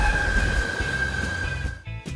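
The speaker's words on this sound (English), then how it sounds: "I met Montez on the BART train down to SFO" A BART train rides toward SFO, its steady rumble and rattle carrying a sustained high whine, with a sharper clatter and shift in tone near the end.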